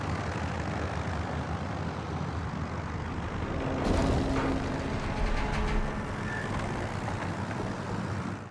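An airship engine roars in the video game Unknown 9: Awakening, a steady rumbling drone that swells louder midway with some rattling bursts, then settles back to a constant hum.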